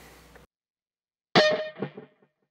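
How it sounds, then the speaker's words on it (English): An electric guitar phrase through a long delay effect rings out after a pause, a bright burst followed by decaying repeats that trail off into silence. "So you can hear that delay tail in the background there."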